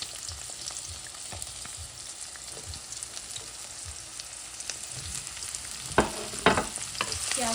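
Chopped onions fry in hot oil already seasoned with cumin seeds, a steady close sizzle with crackling pops and a few louder stirring scrapes near the end.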